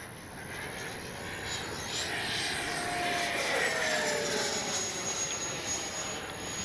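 An E-flite 70mm Viper RC electric ducted-fan jet flies past with a steady, loud rushing whine that swells and fades slightly as it passes, with no talking.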